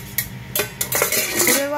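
A titanium camping cookpot is handled in a home kitchen, giving several sharp metallic clanks and taps spaced irregularly, close and fairly loud, with no talking.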